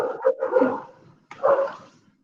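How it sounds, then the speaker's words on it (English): Dogs bark in the background, a few muffled, medium-distance barks in two short bursts separated by a pause. "I think there's some dogs barking or something."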